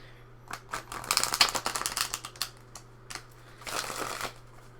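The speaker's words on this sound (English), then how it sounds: "I'm going to go ahead and pull some tarot cards" Tarot cards shuffled by hand in a quiet room, a run of crisp riffling bursts and soft flutters, close and clear over a low steady hum, pausing briefly before a final flurry.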